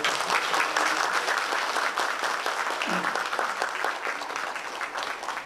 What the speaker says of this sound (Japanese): 拍手をまたお願いします。